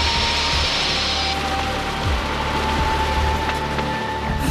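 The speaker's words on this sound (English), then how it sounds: "It also starts to rain." Steady broadband hiss of rain falling during a storm, constant and fairly loud throughout, with a faint tonal hum underneath and no talking.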